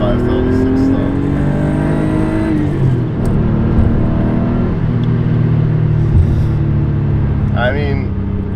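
A Porsche 964 Carrera 2 accelerates hard in second gear from the cabin, its flat engine note climbing steadily in pitch and loudness, with a gear-related dip around three seconds and a voice talking over it.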